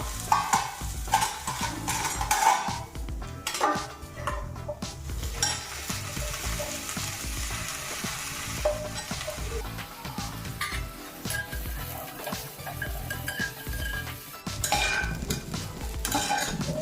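Capsicum being stir-fried for egg fried rice in one pot, a steady sizzle with repeated spatula scrapes and stirring strokes, close and continuous with no talking.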